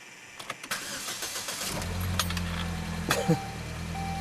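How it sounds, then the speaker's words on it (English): A car engine cold-starts after sitting a week: cranking clatter and a few clinks give way to a steady catch and rising idle, close and fairly loud, with no voices. "this is a legit, week-old cold start. So we'll see if it stumbles upon startup here."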